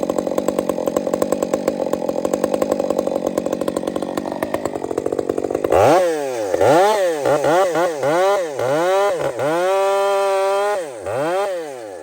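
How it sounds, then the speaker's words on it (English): A small chainsaw idles with a rapid, buzzing put-put, then is throttled up into loud, repeated revving bursts that swoop up and down in pitch, close and alone. "Such a beautiful little saw."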